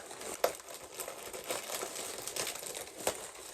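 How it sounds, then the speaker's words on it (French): Plastic packaging crinkles and rustles steadily up close as a parcel of bedroom decorations is opened, with a few sharper crackles standing out and no talking over it. "on se retrouve pour ouvrir mon colis"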